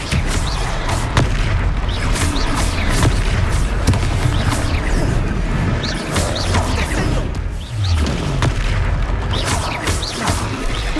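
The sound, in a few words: Expelliarmus spell effect in the video game Hogwarts Legacy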